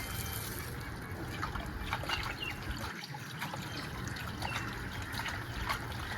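Water runs and trickles steadily while meat is washed outdoors, a continuous soft splashing stream with small irregular drips and a brief pause in the low rumble midway, no voices.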